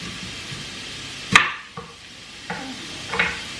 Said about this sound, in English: we're going to chop some pieces of onion